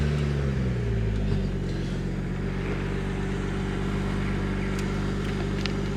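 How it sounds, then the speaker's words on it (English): A BMW M440i or M2 engine starts and settles into a steady, fairly loud low idle that holds continuously, with no talking over it. "So if we start the car"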